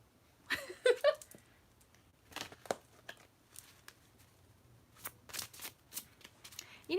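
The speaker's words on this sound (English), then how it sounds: "Sherry Bug, we're gonna do extra shuffle for you." Oracle cards being shuffled close by come through as quiet, irregular bursts of flicking and riffling separated by short pauses, with faint voice sounds in places.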